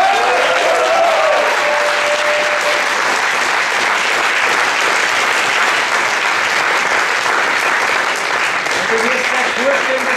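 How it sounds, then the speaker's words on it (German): Loud, sustained applause from a large crowd at a municipal election victory celebration in Lanzenkirchen, Austria, dense clapping that holds steady throughout. "gebt euch da selber mal einen Applaus"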